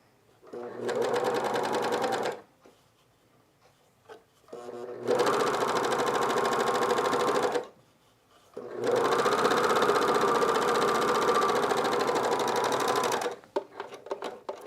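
A cover stitch sewing machine sews picot elastic onto underwear in three long, loud bursts of rapid, even stitching, separated by short pauses, close up.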